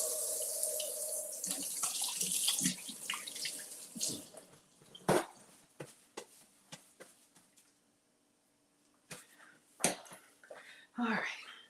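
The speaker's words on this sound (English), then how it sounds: "Let me wash my hands." Hands are washed under a running kitchen tap: a soft stream of water at first, then irregular splashes and drips as the hands move in and out of the flow, fairly close and quiet.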